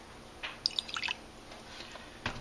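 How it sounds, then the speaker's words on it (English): Hydrochloric acid poured in a small amount into a cup while testing a soil sample for gold: a quiet, brief trickle with a few soft drips and splashes over about a second, then a faint final drop. "I'm just going to pour a little bit of the hydrochloric acid"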